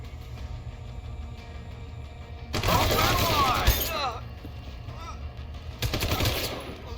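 Bursts of automatic gunfire in the video game Deus Ex: Human Revolution, one roughly three-second volley and a shorter second burst, loud and close over a steady background hum.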